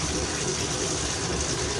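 Hot tap water pouring steadily into a container mixed with granular fertilizer, a dense, even rushing close by with no voices.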